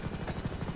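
A helicopter in a video game flies past with a rapid, steady rotor chop under a continuous engine whine, moderately loud.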